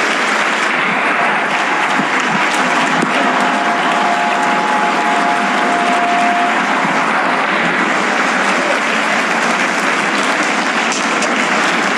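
A church congregation at Calvary Temple in Ongole applauds for Jesus, giving a long, steady, dense roar of clapping that stays loud and even throughout.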